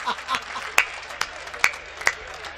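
A live poetry-recitation audience bursts into scattered clapping, a few loud close claps standing out over a thinner patter of hands, with faint chuckles mixed in.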